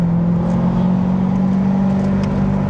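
Car engine humming steadily from inside the cabin after a downshift, a close continuous drone with slight rev swell and no talk.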